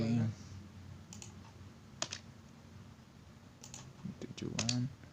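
Keys tapped on a computer keyboard while working in Word 2016: a few scattered, sharp clicks for Enter, Tab and a Ctrl+V shortcut, fairly quiet, with faint talk at the start and end.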